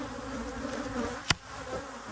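Honeybees buzzing steadily as they are shaken off a honey super in an apiary yard, with a sharp thump partway through from the frame or box being knocked.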